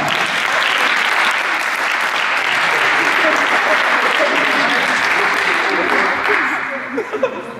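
Loud, dense audience applause at a high school post-prom party, sustained for several seconds with cheering voices mixed in before tapering off near the end.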